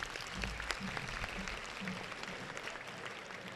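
Audience applause for NCC cadets and students at a motivational talk, a steady continuous clapping from a crowd that holds evenly at moderate loudness in a large hall.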